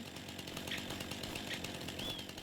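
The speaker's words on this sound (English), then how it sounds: "I can get rid of them with the chainsaw." In the video game Farming Simulator 25, a chainsaw cuts tree stumps with a continuous buzzing engine drone that holds steady and moderately loud for the whole stretch, with slight pulsing revs and no speech.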